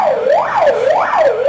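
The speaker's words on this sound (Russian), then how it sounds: "Звук пожарной сирены" A fire alarm siren during a fire drill, wailing and rising and falling in steady sweeps, loud and close, with no voices over it.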